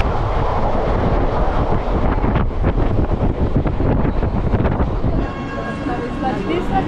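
A Mumbai suburban local train rumbles steadily at close range, with rattling carriages and wind buffeting the microphone, then the noise eases near the end as a brief thin squeal of wheels or brakes emerges.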